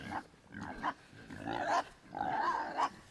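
Sows and piglets grunt in a farm pen, with several short, close grunts in an irregular rhythm followed by longer rumbling grunts.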